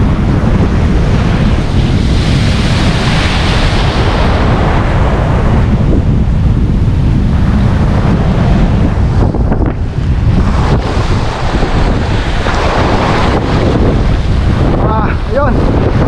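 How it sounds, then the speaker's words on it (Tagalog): Strong wind roars at sea during a fishing trip, buffeting the microphone with constant loud rumble, mixed with waves and surf, steady throughout with no clear speech. "malakas ang hangin eh"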